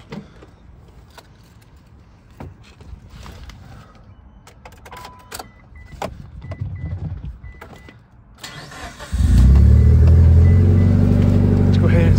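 A 460 WHP Mitsubishi Evo 9 is quiet at first, with faint clicks and handling noises, then the engine fires and settles into a loud, steady, deep idle close by. Someone talks in the background.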